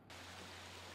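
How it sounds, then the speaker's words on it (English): Rushing water pours down a dam in the Resident Evil video game, a steady, broad roar that holds constant and loud throughout with no talking. "Water comes down the opposite side."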